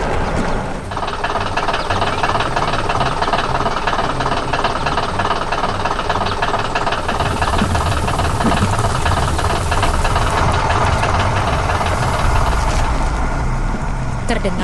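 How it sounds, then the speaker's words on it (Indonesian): A loud digging machine engine labors continuously with a rattling, clanking mechanical knock, grinding on at constant strength throughout. "Terdengar suara mesin yang bekerja keras"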